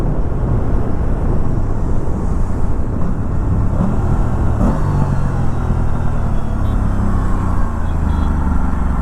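An Aprilia RS 457 sub-500cc supersport motorcycle with 30,000 km on it runs at steady speed while being ridden, with a loud, constant engine drone and road rumble throughout.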